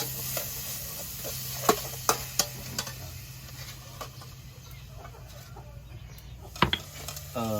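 Kroeung spice paste fries in hot oil in a pot, a low sizzle under scattered scraping stirs and utensil knocks against the pot, with a few sharper clacks and some faint background noise.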